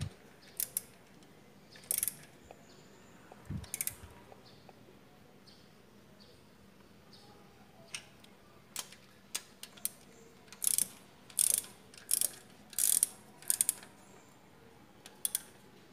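A 10 mm wrench tightens the ignition coil bolts on a Honda Civic FD, giving a series of short, sharp metallic ratcheting clicks in bursts, faint and close, with quiet gaps between them.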